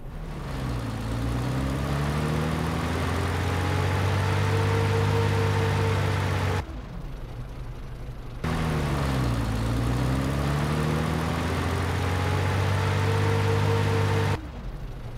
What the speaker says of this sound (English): I also supplemented this with unique engine and idle sounds for both players